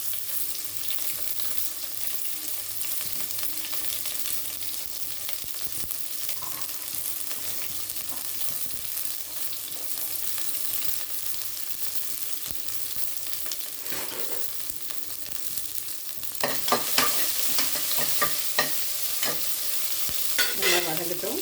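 Onions and green chilies sauté in a pan for one-pot rice, a low continuous sizzle with scraping stirs that grows busier and louder toward the end.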